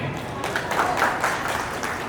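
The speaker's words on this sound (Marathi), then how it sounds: "सर्वांनी त्यांना टाळ्या वाजवून स्वागत करायला पाहिजे" Applause from an audience welcoming guests at a golden jubilee celebration, a steady, moderately loud patter of clapping with some voices mixed in throughout.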